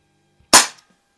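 A Crosman SNR357 CO2 revolver fires a single BB shot, one sharp, loud, close pop with a short decaying tail, alone with no talk.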